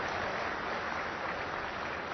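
Dense audience applause fills an industry conclave hall, a steady even wash of many hands clapping at moderate level with no speech over it.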